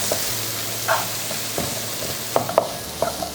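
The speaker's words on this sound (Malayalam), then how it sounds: "സവോള 3 സവോള നല്ല സ്ലൈസ് ചെയ്ത് ഇട്ട് കൊടുക്കുന്നു, ലേശം ഉപ്പിട്ട് കൊടുത്ത് നമുക്കൊന്ന് സോട്ട് ചെയ്തെടുക്കാം." Sliced onions and green chillies with a pinch of salt sautéing in a pan, a low steady sizzle broken by a few sharp spoon scrapes and stirring clacks near the end, no voices.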